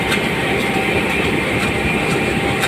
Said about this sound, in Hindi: RPM ड्रॉप कर रहा है ट्रैक्टर, जो कि थोड़ा फसल गीले होने के कारण RPM ड्रॉप कर रहा है।